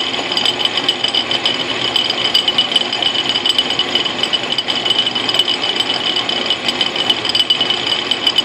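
Logan lathe fitted with a milling head taking small cuts on a nut for an AXA-style tool holder, a steady close rattling, chattering machine noise with fine rapid pulses and a high whine, continuous and alone.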